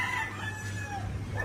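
Rooster crowing among chickens in a Filipino gamefowl range area, one short close crow with faint clucking around it.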